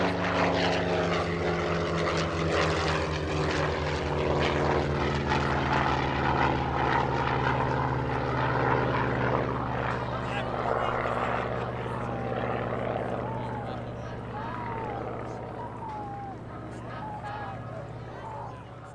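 A P-47 Thunderbolt warbird flies at the Spirit of St. Louis air show, its loud piston propeller engine droning steadily near and then slowly fading as it passes, with other warbirds in the group.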